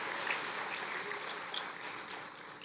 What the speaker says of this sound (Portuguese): Aplauda o Senhor, porque grandes coisas Ele haverá de fazer na sua vida